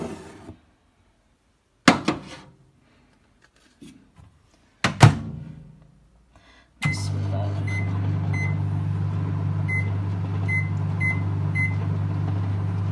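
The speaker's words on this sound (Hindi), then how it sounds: "तो आइए इसे माइक्रोवेव में रखते हैं।" A tea mug with milk and tea bags set inside a microwave oven: a few thunks and clatters of the door and mug, then a steady loud hum of the running oven with small beeps over it.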